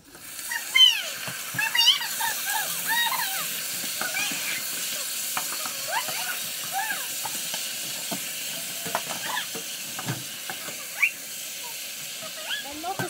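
Buckwheat and wild boar sizzle steadily in a pan over very high heat, browning with a constant hiss punctuated by stirring scrapes and small pops, close up, while a voice talks intermittently over it.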